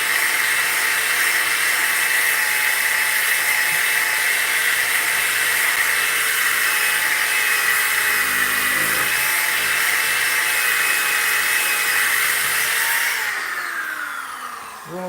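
An electric sander runs on wood with a steady, loud, high-pitched whine and hiss throughout, winding down near the end.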